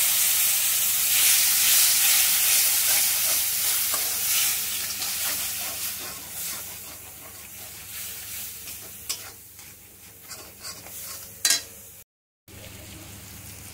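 Spice masala with garam masala fries in a pan, a bright steady sizzle that slowly fades, with occasional stirring scrapes and clicks near the end, close up and alone.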